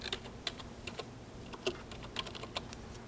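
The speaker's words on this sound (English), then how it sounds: "So I have a video camera in my hand, so it's kind of hard to type." Keys tapped on a keyboard while searching on a phone or computer, an irregular run of light, close clicks at a soft level with no talk.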